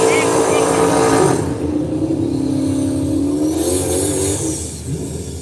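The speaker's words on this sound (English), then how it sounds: "That's Triumph TR7. Here in the left lane, taking on the Firebird." Race cars roar past on a no-prep drag strip, a Triumph TR7 in the left lane running against a Firebird; steady loud engine drone with a swelling pass mid-clip, under an announcer's continuous talk.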